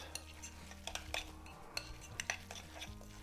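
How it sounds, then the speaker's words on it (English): Venison tartare being mixed with mustard in a bowl: a quick series of close metallic clinks and scrapes of cutlery against the dish, with soft wet stirring between the taps and no talk. "So we're going to give that a good old mix around."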